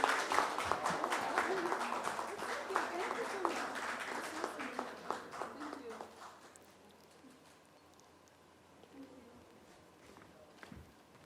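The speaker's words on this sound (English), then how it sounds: "Ladies and gentlemen, please put our hands together for this show." Audience applause for actress Disha Patani at a stage event, a dense burst of clapping for about six seconds that fades to a few scattered claps, with background voices.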